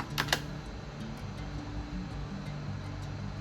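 A few quick key taps on a computer keyboard while a password is entered over SSH to a Jetson Orin Nano from a Mac, a short burst near the start and then quiet hum.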